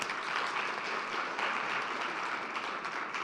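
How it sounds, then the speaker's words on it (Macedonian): An audience at a hackathon event gives the teams a dense, continuous round of applause that stays loud and even for the whole stretch, with no talking over it. "Ја би им дал еден аплауз."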